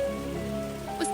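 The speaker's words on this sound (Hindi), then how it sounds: "उस रात लगभग 12 बजे बारिश और तेज हुई।" Rain falls at night in an animated Hindi horror story: a steady, soft patter with background music and no voices.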